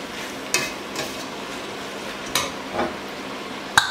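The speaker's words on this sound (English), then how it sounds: "Stir. Always stir. Always stir." Chicken, vegetables and rice frying in a pan, with a soft steady sizzle under several distinct scraping stirs and a sharp utensil knock near the end.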